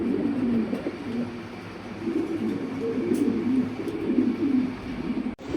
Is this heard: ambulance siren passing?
no